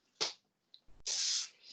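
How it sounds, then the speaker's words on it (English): Hair spray is applied to a soft updo in two hissing bursts: a short spritz, then a longer, louder spray lasting over half a second, close to the mic. "add a bit of spray"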